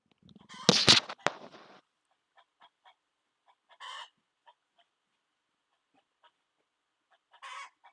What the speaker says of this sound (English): The other one's laying an egg, so the other chicken's losing its mind because its buddy is gone to lay an egg.